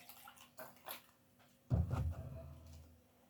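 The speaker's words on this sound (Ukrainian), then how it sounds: "і я в стакан налью води" Water is poured into a glass in a home kitchen during cooking. A few faint clinks come first, then a short burst of splashing pour that tapers off, quiet and close.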